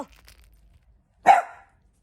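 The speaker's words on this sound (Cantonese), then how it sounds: "阿釘仔啊，即刻走去個門口喎，係咁吠啊！" A single sharp bark from a dog guarding the front door against strangers passing by, close and loud, after near silence, with no other sounds around it.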